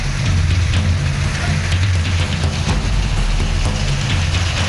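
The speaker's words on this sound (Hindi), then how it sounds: "आज वहां बारिश ने कोहराम मचा रखा है।" Heavy rain pours down steadily during flooding in Jaisalmer, a dense, constant loud wash of falling water with a low rumbling undertone and no voices.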